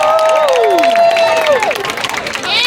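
A crowd at a SeaWorld race event applauds, the clapping running under loud, gliding whistles and whoops that rise and fall over several seconds.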